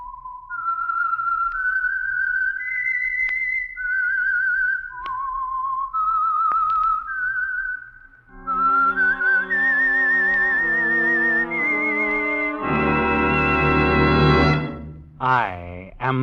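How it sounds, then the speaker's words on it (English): A melodic whistled theme tune from The Whistler, a 1948 radio mystery show, carried alone in long sliding notes, then joined by a loud, full orchestral swell near the end. "That whistle is your signal for the Signal Oil Program"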